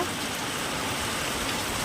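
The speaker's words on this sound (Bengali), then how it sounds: "মুষলধারায় বৃষ্টি হচ্ছে" Heavy, pouring rain gives off a thick continuous wash of drops on surfaces, steady and close, with no voices and no breaks.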